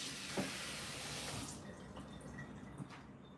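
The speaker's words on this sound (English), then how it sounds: "I'm gonna rinse my cutting board off." A cutting board is rinsed under running tap water, a steady faint rush of water with light splashes and drips that changes tone partway through as the board moves under the stream.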